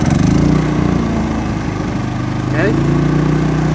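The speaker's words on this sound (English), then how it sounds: "push this button, hold it until it starts." A Champion 3500 watt inverter generator, electrically started, runs with a steady mid-pitched engine drone, close and loud throughout, while someone speaks briefly over it.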